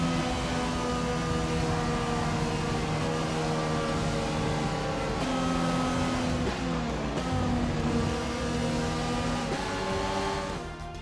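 A McLaren Formula 1 car in F1 2020 cruising in after a race, its engine a steady loud droning whine that shifts pitch as it changes gear, running alone throughout.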